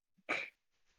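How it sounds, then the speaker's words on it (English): A single sharp sneeze bursts out loud and close, preceded by a faint short inhale, with only quiet breathy residue trailing after it. "I have been non-stop sneezing"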